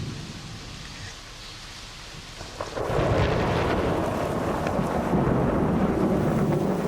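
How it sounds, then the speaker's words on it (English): Thunder rolls in during the Sri Lankan monsoon, a heavy rumble that swells suddenly after a quiet start and holds loud over the hiss of falling rain and wind. "That's thunder."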